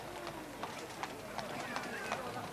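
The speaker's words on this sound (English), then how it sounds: "Then horses of the Metropolitan Police, very experienced in such things." Police horses of the Metropolitan Police walk in a ceremonial procession at the 1969 investiture of the Prince of Wales, hooves clip-clopping in a steady, moderately near rhythm over a crowd and broadcast murmur.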